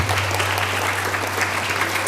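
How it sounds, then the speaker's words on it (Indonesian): An audience bursts into dense, steady applause, close and lively, over a low background hum. "tepuk tangan"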